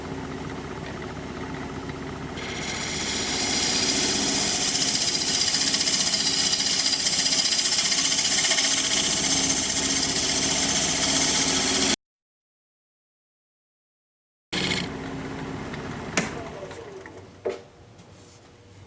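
A wood lathe spins a live-edge, end-grain winged bowl at about 900 RPM while a 5/8 inch bowl gouge cuts, giving a steady loud whirring and scraping hiss that swells and then holds. It breaks off abruptly, then quieter clatter and knocks follow.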